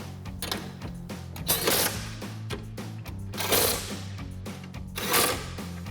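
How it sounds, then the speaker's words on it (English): Rapid ratcheting of a 14mm socket on a bumper bracket bolt of a 2016-2023 Toyota Tacoma, held against a 15mm wrench, coming in several close, loud bursts with brief pauses between them and a steady hum underneath. "Using our 14mm socket on the head side and a 15mm wrench on the other side."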